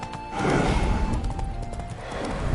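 Horse hooves clip-clop in The Witcher video game, a quick run of hoofbeats set against a dense, busy game soundscape.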